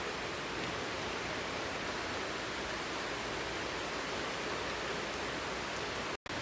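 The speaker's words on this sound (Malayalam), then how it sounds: "ഇപ്പോൾ നല്ലൊരു മഴയും തുടങ്ങി" Heavy rain pours steadily in a dense, continuous hiss with no let-up, loud and close, with no talk over it and a brief dropout at the very end.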